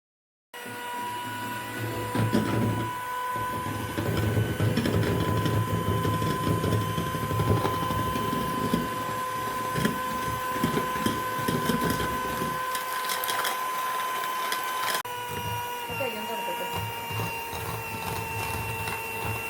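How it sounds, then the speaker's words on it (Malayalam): Electric hand mixer whirring steadily as it whips egg whites with powdered sugar into stiff peaks, a close continuous motor whine with beaters rattling against the bowl, no talking. "എഗ് വൈറ്റ് നമ്മുടെ പൗഡർ ഷുഗറായിട്ട് മിക്സ് ചെയ്ത് നന്നായിട്ട് ബീറ്റ് ചെയ്ത് നല്ല സ്റ്റിഫായി ബീറ്റ് ചെയ്തെടുക്കാം."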